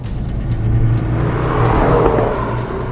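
A 2016 Ford Focus RS with its 2.3-litre engine revs hard at full throttle, a loud, close, rising engine roar with a whirring edge that swells and holds steadily for the full stretch.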